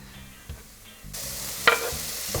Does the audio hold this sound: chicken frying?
yes